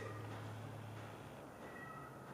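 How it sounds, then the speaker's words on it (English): Cat meowing outside at night, faint and distant, a few drawn-out cries under a steady background hum. "There is a cat outside just meowing away."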